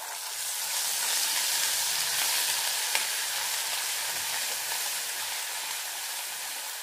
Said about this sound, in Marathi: आता इथे मी सर्व मसाला टाकून घेते.